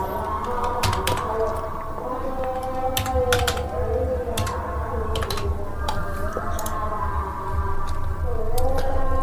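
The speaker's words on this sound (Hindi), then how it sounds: "चलिए टाइपिंग कर देते हैं" Keys clatter in quick irregular bursts on a computer keyboard at an RTO office in Purnea, entering a vehicle registration number over a steady low room hum and background murmur.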